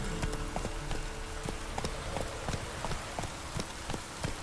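Horse hooves galloping in a video game, a quick steady run of clip-clop beats over a dense, noisy game background, with no talking.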